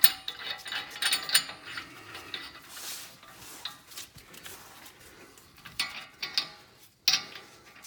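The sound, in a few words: putting axle nut on 2008 Honda Accord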